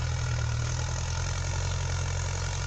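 A tractor engine idles steadily at moderate volume in a rice field, its low, even chugging continuing without a break and no voices over it.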